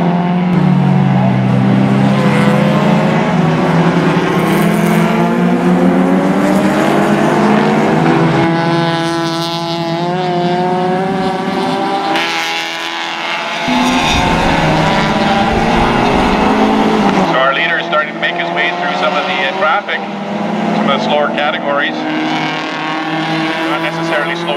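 Closed-wheel race cars roar down the straightaway at Mission Raceway, with a loud, sustained engine drone and rising and falling pitch sweeps as cars pass and shift, under continuous race commentary.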